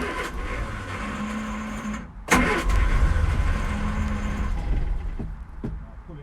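A 1964 Vauxhall HA Viva engine, running on choke after sitting 19 years, idles roughly and steadily, then catches with a louder burst around the midpoint and keeps running close by with an uneven throb.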